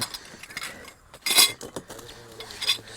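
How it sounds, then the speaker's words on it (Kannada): Kitchen utensils for a camping trip are handled close by, with scattered clinks and clatters of metal cutlery and pots and one brighter chink of glass or metal midway through, and nobody speaking. "ಕಿಚನ್ ಪಾತ್ರೆಗಳು"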